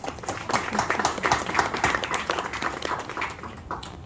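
Clapping from an audience at a book promotion event for a book about Aruba, a moderate, steady patter of hands across the whole stretch with no voices over it.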